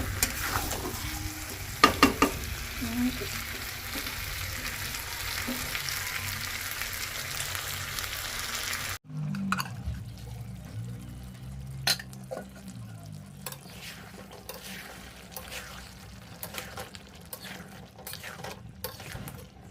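Mutton curry sizzling and frying in a pan while being stirred, loud and continuous at first with scraping clinks, then quieter crackling and intermittent spoon scrapes after a sudden drop in level.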